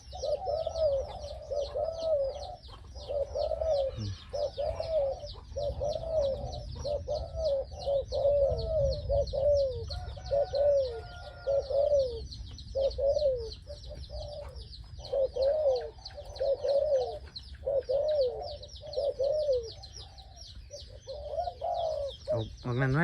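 A pair of large doves coo to each other outdoors, trading repeated soft, throaty coo phrases in a steady rhythm over low background rumble and faint chirping.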